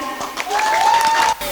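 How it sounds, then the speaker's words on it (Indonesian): Brief burst of audience applause at a school thanksgiving event before a musical drama about the Prophet Yusuf, dense clapping with a sustained tone over it, cut off abruptly. "Tepuk tangan yang meriah."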